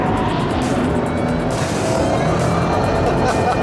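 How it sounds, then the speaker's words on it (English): A Ford Shelby GT500 oversteering through a corner, its loud engine roaring close with a tire squeal woven through the steady drone. "Now we've got some oversteer."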